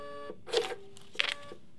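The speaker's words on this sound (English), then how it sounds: "this will send it to the printer." A Brother QL-800 label printer runs a print job, giving two short mechanical bursts about half a second apart over a steady low hum, close and fairly quiet with no talking.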